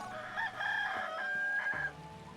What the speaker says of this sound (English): Also, the hen is crowing like a rooster.